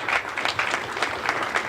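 Audience at a university Democrats political event breaks into applause, a short steady burst of clapping from a moderate-sized crowd, no voices over it.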